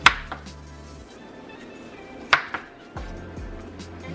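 A knife slices through crockpot corned beef on a board, giving a few sharp knocks and clinks against the surface with soft cutting sounds between them, close and quiet, with no talk.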